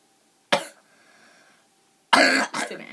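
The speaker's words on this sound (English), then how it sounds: "Sorry, I have a cough." A person coughs sharply and close, a single cough followed after a pause by a harsher double cough.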